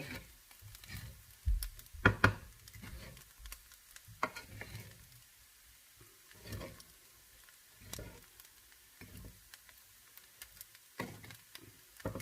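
Fried rice with butter, chicken, egg and carrot stir-fried in a pan, giving a low steady sizzle broken by repeated clattering scrapes and stirring knocks of the spatula, close and moderately loud with no talking.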